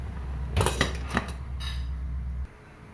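A metal pot lid clanks and rattles as it is set back onto a pot of steaming crabs. A few close, sharp knocks ring out over a low background hum, then everything goes quiet.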